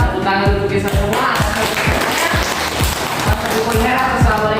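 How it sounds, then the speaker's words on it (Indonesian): Classroom applause, a group clapping in a fast, even rhythm that runs loud and close for about five seconds. "Tepuk tangan untuk kita semua."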